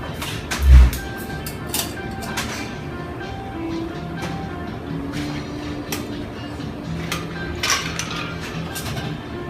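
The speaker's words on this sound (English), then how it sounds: "So what we're going to do is now just take the time to stir up this cocktail" A mezcal and sherry cocktail is stirred in a mixing glass, giving light clinking and tinkling ticks of spoon and ice, with one louder knock near the start and faint background bustle.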